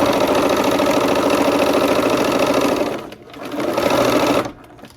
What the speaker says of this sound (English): here we are at the machine